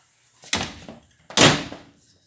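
A freshly hung door on new hinges swings and shuts twice, each close a sharp wooden knock with a short rattle, close by and with no talk.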